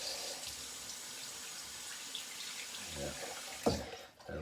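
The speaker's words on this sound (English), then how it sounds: "See if I can rinse the handle" Water from a running tap splashes steadily as a wooden shaving brush handle is rinsed, faint and close, with a brief clatter near the end.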